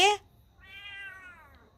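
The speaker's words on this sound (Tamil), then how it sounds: "இது வந்து வேறு பூனைக்குட்டி. இது தினந்தோறும் இப்போ கொஞ்சம் பால் போட்டு தொட்டு வந்து கத்துது பாருங்க வாசல்கிட்ட" A kitten meows at the door, one drawn-out, clear meow, fairly close and moderately loud, just after a brief sharp sound at the start.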